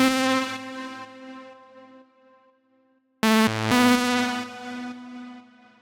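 A recreated synth lead from the track plays rich, buzzy sustained notes with bright harmonics that fade into an echoing tail, then a short stab and another held note, with no voices.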